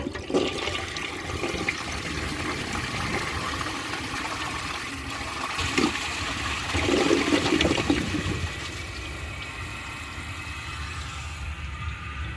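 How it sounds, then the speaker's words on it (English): A 1981 Eljer Emblem toilet flushes with a loud, continuous rush of water that swells midway and then settles into a steady refill hiss. No voices are heard. "The tank is now full, so let's give it a flush and see if it'll take this"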